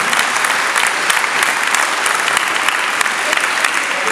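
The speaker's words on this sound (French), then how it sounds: "On peut applaudir." Audience applause at a charity association event, dense steady clapping from a sizeable crowd throughout, close and loud with no talk over it.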